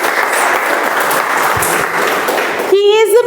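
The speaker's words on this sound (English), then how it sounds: "Can we have a big round of applause for the Sergeant of Arms?" Loud, dense round of audience applause at a multilingual club meeting, honouring the Sergeant at Arms, holding steady for almost three seconds before a speaker's voice cuts in near the end.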